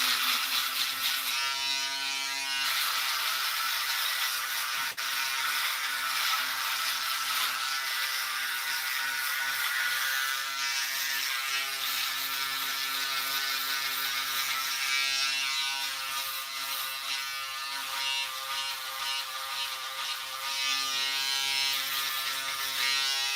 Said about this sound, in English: So whatever you shave, this grabs the excess hair.